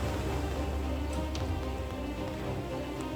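Heavy monsoon rain in Gujarat, a dense, steady roar of drops pelting surfaces, loud and continuous with no voices.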